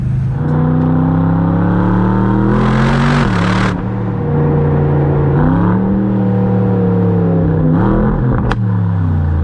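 An Aston Martin DBX S SUV engine pulls hard and loud uphill, its drone rising and falling through several surges as it accelerates, with a brief hissing burst midway.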